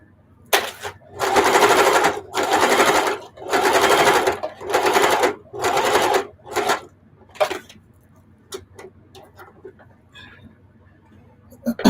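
An old sewing machine runs in a series of rapid mechanical stitching bursts, each a second or so long, sewing hot pads from old jeans, then stops, leaving a few faint clicks and handling sounds.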